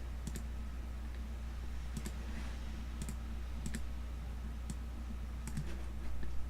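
A computer mouse clicks while selecting an area in Photoshop, giving sharp, sparse single clicks spaced about a second apart over a steady low electrical hum in a quiet room.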